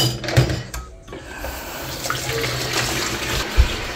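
Water runs steadily from a tap while someone fetches water, a continuous close rushing flow with a few small knocks and clatters.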